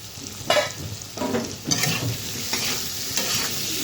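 Taro and dried shrimp frying in a pan, a steady sizzle broken by several scraping stirs of a spatula at regular intervals, close and fairly loud with no talking.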